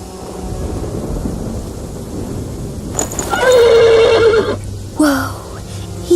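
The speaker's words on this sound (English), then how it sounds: "The horse nearly woke the guard." A horse in the medieval video game Pillars of the Earth whinnies loudly and shrilly twice in close succession, rising out of a steady low rumble of rain and thunder.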